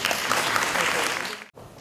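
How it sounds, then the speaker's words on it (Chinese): A lecture hall audience claps warmly to welcome a philosophy lecturer, a dense burst of many hands that fades out abruptly near the end. "那我们是热烈掌声来欢迎傅老师"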